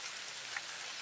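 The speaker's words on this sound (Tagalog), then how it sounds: "Napakalakas ng ulan." Heavy rain pours down as a steady, dense hiss of drops on an outdoor road, continuous and fairly faint, with no voices.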